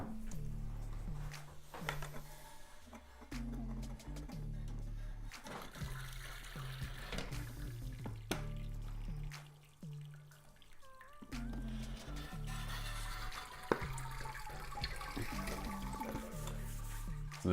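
Hot wort pours and splashes steadily while draining from the mash during lautering in home brewing. The continuous liquid stream sits close to the mic, and faint equipment hum runs underneath.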